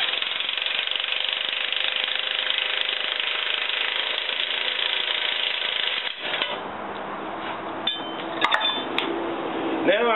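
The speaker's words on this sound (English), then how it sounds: "we tighten the tie rod bracket with the large bolt onto the safety plus" During an RV Safe-T-Plus steering control install, a power tool tightens the large tie rod bracket bolt with a loud, steady, rattling hammering for about six seconds, followed by quieter clanks and taps.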